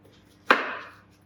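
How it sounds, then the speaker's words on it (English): A single knife stroke on a cutting board while dicing an onion, one sharp close chop with a short fading tail, alone in a quiet kitchen. "I'll just dice the onion like we normally would do."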